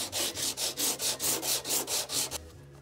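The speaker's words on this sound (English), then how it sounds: "it's 36 grit sandpaper to sand this combination of microballoons and epoxy" Coarse 36 grit sandpaper on a rounded stick scrapes across cured microballoons and epoxy to shape a curve, with about ten fast, rhythmic gritty strokes up close before the sanding stops.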